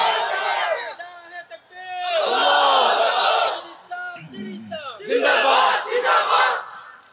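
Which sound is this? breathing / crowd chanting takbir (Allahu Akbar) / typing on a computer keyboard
crowd chanting takbir (Allahu Akbar)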